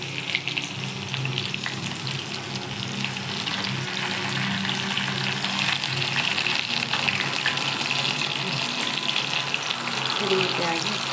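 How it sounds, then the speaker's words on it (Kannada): Bangude mackerel fish sizzling steadily in a hot pan, a continuous close, crackling fry with faint stirring or shifting sounds throughout, no voices. "ಎರಡು ಕಡೆ ಚೆನ್ನಾಗಿ ಫ್ರೈ ಮಾಡ್ಕೋಬೇಕು ಫಿಶ್"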